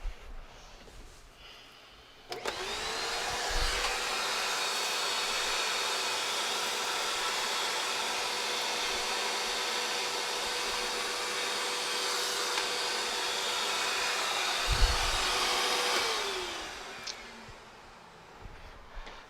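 A Clean Obsessed CO888 / Perfect C103 canister vacuum cleaner starts abruptly and runs with a steady, loud whine and airy roar for about fourteen seconds, then winds down; no one speaks.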